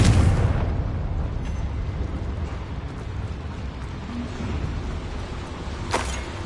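Blast from the Confringo fire spell in Hogwarts Legacy, a booming burst at the start that decays into a rumbling tail, with a second sharp pop near the end.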